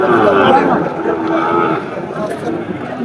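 A Sahiwal breed calf at a cattle market gives a loud, close, drawn-out moo lasting most of the moment, with faint crowd chatter behind.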